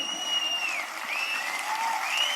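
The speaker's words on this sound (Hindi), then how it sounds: "जिनको ज्यादा अच्छा लगा करे वो हाथ उठा के तालियां बजाया करे" An audience at a live comedic talk in a Hindi-speaking setting claps steadily and continuously, a dense, even wash of applause held throughout, while a faint whistle or tone wavers above it.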